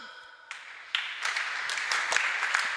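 A church congregation applauds during a Sunday service, a sustained wash of clapping that starts softly and swells into steady, moderately loud applause with scattered sharper claps.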